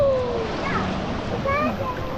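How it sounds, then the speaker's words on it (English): Water splashing around swimmers at a mountain swimming hole, a continuous close wash of churning water with faint higher whistling tones over it, loud and steady for a couple of seconds. "don't be splashing me"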